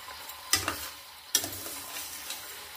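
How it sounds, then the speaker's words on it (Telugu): Lentils frying slowly on a low flame, a quiet steady sizzle broken by two sharp clicks of a spoon striking the pan. "మనం నిదానంగా సిమ్లో పెట్టుకొని వేయించుకోవాలి"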